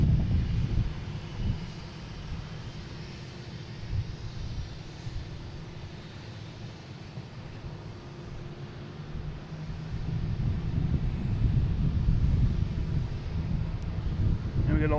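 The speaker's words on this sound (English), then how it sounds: "This is flight 211, 737 MAX 8" A Southwest Boeing 737 MAX 8 jet at Boston Logan, a low rumbling engine drone with wind buffeting the microphone, fairly steady and building louder in the final seconds.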